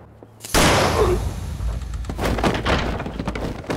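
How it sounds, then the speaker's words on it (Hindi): Gunfire in a historical drama setting: a sudden loud blast followed by a rumbling echo and a second burst about two seconds later. "दो गोलियां चली हैं।"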